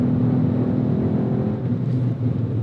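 A Ford Fiesta ST engine hums with a low, steady growl, the car's note holding at moderate loudness with a slight swell and dip, no voices present.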